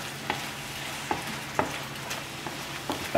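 A sauce for beef and pak choi heats and thickens in a pan, giving a low sizzle broken by a regular series of sharp utensil taps and stirring scrapes, close with no voices.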